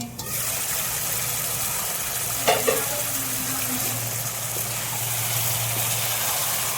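Chicken gravy with leg pieces frying in a pan is stirred steadily, with a continuous close sizzle and occasional scraping clinks from the spoon under a low background hum.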